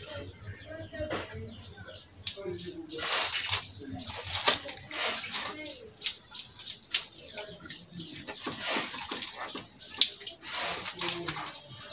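Water splashes and trickles into a catfish tank as acidic water is added back in, uneven gurgling pours over a faint background with a voice talking intermittently.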